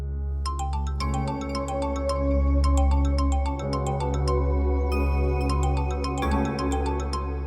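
A phone rings with a repeating melodic tone pattern, several cycles of chiming notes over a steady low hum.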